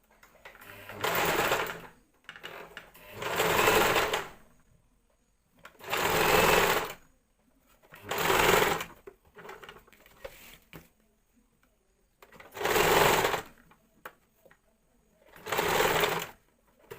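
Sewing machine stitching a churidar in bursts, a close, rapid mechanical whirr that runs for a second or two, stops, then starts again, repeating about seven times with quiet gaps between.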